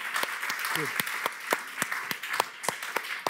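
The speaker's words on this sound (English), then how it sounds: "big applause" Applause from a lecture audience at an ESMT open lecture, fairly faint with scattered sharp claps standing out and a voice speaking briefly over it.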